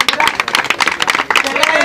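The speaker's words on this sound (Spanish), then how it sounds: "¡Aplauso, muchachos!" Loud, close audience applause at a rap battle: energetic, uneven clapping bursts with crowd noise, briefly dipping midway before resuming.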